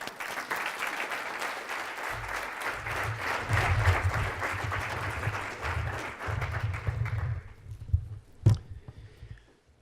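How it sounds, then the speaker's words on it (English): A conference audience at Play the Game 2013 applauds the speakers and Jens, a full, dense round of clapping that runs for several seconds and then cuts off, followed by a few scattered sounds. "it can both be a round of applause for the speakers and for Jens"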